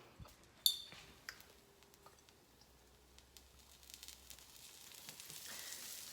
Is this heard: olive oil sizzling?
yes